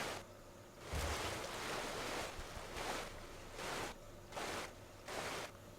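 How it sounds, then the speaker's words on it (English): Rushing water from a waterfall in the StarCraft II real-time strategy game, a steady broadband roar that swells in several regular surges, moderately loud and continuous with no one talking. "sounds like we've got a waterfall"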